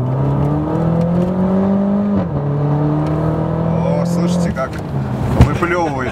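A BMW X5M E70 SUV engine idles and revs with a steady exhaust drone, pitch stepping up and down, ending in a few sharp exhaust pops and crackles, while people talk over it inside the car.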